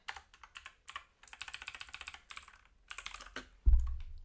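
Keys clatter on a computer keyboard in quick bursts of separate taps, with a louder low thump near the end and no talking.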